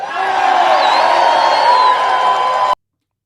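Loud crowd at a political rally cheering and whooping continuously for nearly three seconds before cutting off abruptly.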